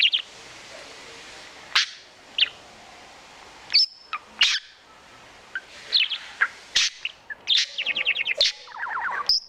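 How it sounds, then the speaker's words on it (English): Pet bird chirping indoors, a series of sharp high tweets and short rapid trills scattered irregularly over a quiet background, close and clear with no talk. "we're listening to a bird"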